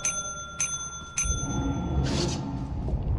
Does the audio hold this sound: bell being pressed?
yes